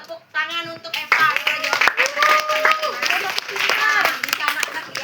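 Applause in a fourth-grade Catholic religion class for a student named Eva, brief clapping from the children mixed with a teacher talking over it.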